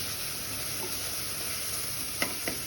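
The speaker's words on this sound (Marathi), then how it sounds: "कांदा पण आपला आता मस्त फ्राय झालाय।" Onion cooking in a pan with no oil gives a soft, steady sizzle and hiss, faint and continuous, with a couple of light scraping stirs near the end.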